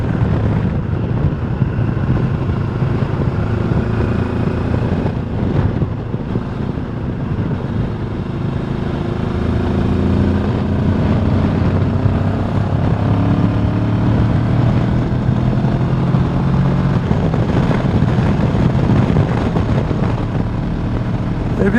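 A 2025 QJ Motor SRT 700 SX motorcycle engine drones steadily while riding on a road with bends, its rising and falling harmonic tones heard close under constant wind rush, with no talking.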